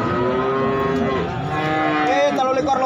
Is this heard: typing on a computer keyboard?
no